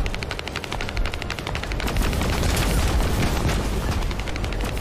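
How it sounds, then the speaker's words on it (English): Rapid enemy gunfire in The First Descendant video game clatters in dense automatic bursts alongside heavy booming impacts, loud and continuous throughout a battle. "Now he's shooting at me."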